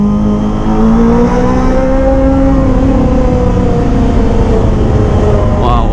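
A Kawasaki ZX25R motorcycle revs up while overtaking a car on the road, its engine note climbing steadily and loud, with wind rush underneath.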